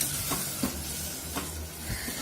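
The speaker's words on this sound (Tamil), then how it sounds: "இதை அப்படியே நம்ம எண்ணெயில் வதக்கலாம்." Ginger, garlic and spices sauté in hot oil, a continuous close sizzle and hiss broken by periodic scraping stirs, with no talking.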